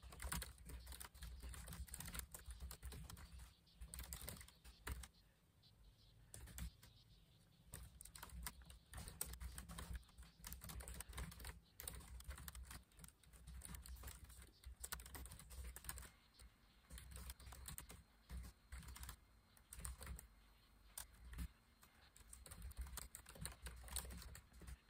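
Steady computer keyboard typing while an essay is written, a continuous run of close, quiet key clicks and taps with short pauses, no voices.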